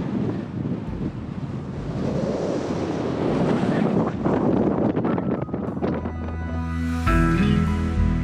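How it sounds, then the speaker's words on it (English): Strong wind on a hilltop buffets the microphone in a constant loud roar, with gusts swelling and fading throughout. "We're at the top now, it's very windy."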